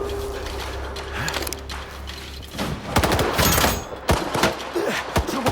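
Gunfire in the video game S.T.A.L.K.E.R. 2: Heart of Chornobyl, scattered shots giving way to loud, dense volleys and rapid bursts in the second half, with mechanical clatter and no talking.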